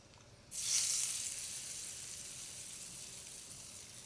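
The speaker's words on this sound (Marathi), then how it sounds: "आता ही गरम गरम फोडणी दह्यावर घालू" A hot tempering of mustard seeds, asafoetida and curry leaves is poured onto yogurt for a chutney. It sets off a sudden sharp sizzle that bursts in, then eases into a softer, fading hiss, close by and with no talking.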